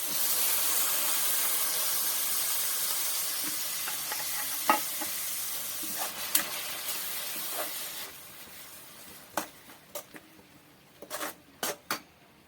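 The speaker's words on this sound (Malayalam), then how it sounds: "ഇതിലേക്ക് നമുക്ക് എടുത്തു വെച്ചിരിക്കുന്ന ഇഞ്ചി, വെളുത്തുള്ളി, പച്ചമുളക്, തക്കാളി എന്നിവ പേസ്റ്റ് ആക്കിയത് ഇട്ട് കൊടുക്കാം" Ginger, garlic, green chilli and tomato paste sautés in a hot pan with a steady broadband sizzle, while close spatula scrapes and taps grow sharper and more frequent toward the end; no one speaks.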